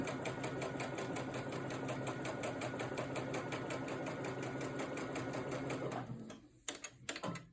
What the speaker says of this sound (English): You're just going to sew along that line right on it.